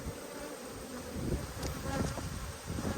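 Honeybees buzz close around an open hive frame in Australia, a dense, continuous droning hum with individual bees flitting near and away, no voices over it.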